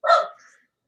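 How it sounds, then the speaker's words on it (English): A single loud, close dog bark with a short trailing yip, heard alone during a live stream while the dog is excited. "This dog's going bananas."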